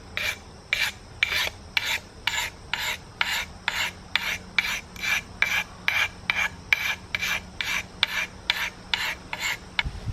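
A blade is sharpened on a DMT Diafold diamond sharpener in quick, regular rasping strokes, about two per second, each a short gritty scrape heard close and alone.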